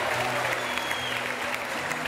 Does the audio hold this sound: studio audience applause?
yes